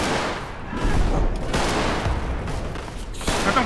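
Gunfire in the Roblox trench-warfare game Centaura, a dense rattle of overlapping shots and booming bursts, heaviest around the middle and rising again at the end, with no speech over it.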